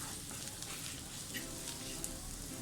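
Egg biryani masala sizzles and crackles in hot oil while being stirred in a Malabar-style pan, a dense close frying hiss throughout.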